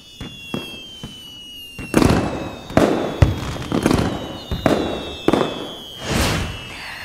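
Fireworks bursting overhead in a rapid series of sharp booms and crackling pops, several loud explosions spaced irregularly with a fizzing whistle trailing between them.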